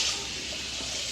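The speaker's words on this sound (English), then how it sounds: "So she added more water." Water pours into a pot of Jamaican stew peas with pigstail and oxtail, a steady close splashing and running sound with no speech over it.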